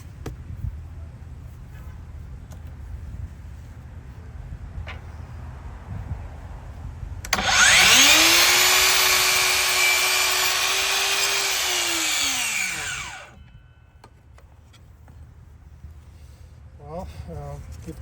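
A DEWALT DCS714B 20V MAX XR cordless miter saw cuts 5.25-inch crown molding: the motor spins up with a loud whine, holds a steady cut for about six seconds, then winds down, with quieter background noise before and after.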